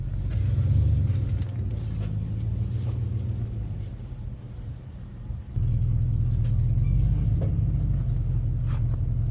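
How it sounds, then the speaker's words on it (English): A truck driving past on a road, a deep low engine rumble that swells, dips briefly near the middle, then returns strong and steady, heard without speech. "There comes a truck right there."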